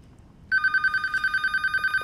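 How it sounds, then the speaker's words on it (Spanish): Loud telephone bell ringing: a rapid, trilling electronic ring that starts suddenly after a quiet moment and continues insistently and close by. "Déjame apagar este teléfono. Ese timbre alto."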